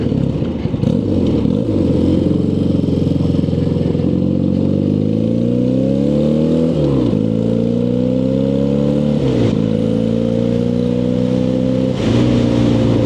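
A BMW R65 motorcycle engine underway on a ride, a steady loud drone rising and falling through the gears, with pitch sweeping up under acceleration and dipping at each shift.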